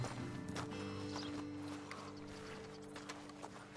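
Horses' hooves clip-clop in the open-world western game Red Dead Redemption 2, a steady walking rhythm with an occasional snort under a constant ambient hum of the game world.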